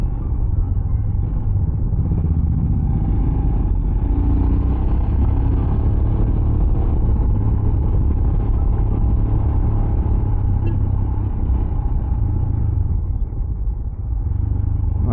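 Steady, loud engine rumble and road noise from a motorbike riding along a road in Goa, continuous and close throughout with no talking.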